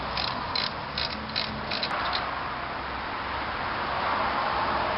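A ratchet clicks in quick bursts while backing out a brake caliper bolt on a 2004 Ford Focus, the close rapid pawl ticks sitting over a steady background hiss.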